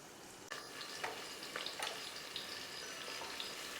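Onions and bay leaves fry in hot oil in a pan, a steady close sizzle with a few brief stirring clatters and scrapes over it, and no talking.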